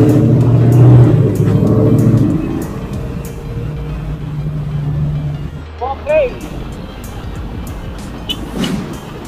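A Dodge Charger's engine rumbles loud and low at first, then settles to a lower idle as someone talks over it, with squealing sounds and a passing vehicle later on a highway.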